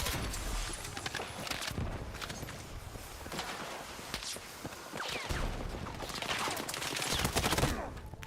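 Dense bursts of gunfire in the shooter game Battlefield 6, rapid overlapping shots and rattling volleys that continue throughout at a moderate, somewhat distant level.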